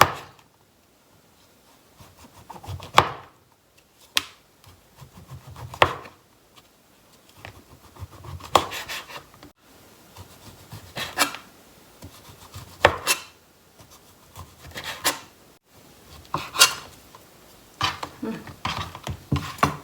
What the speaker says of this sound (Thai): หั่นเขาให้บางที่สุดอะ